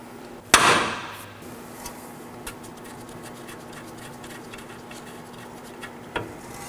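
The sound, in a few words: hammer hitting steel steering knuckle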